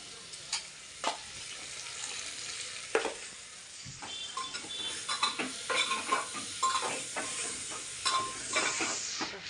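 Bay leaf and black pepper sizzle in hot oil in a pan while making quick tempered rice, a steady close hiss broken by scraping stirs and metal clinks from a spoon, with no voices.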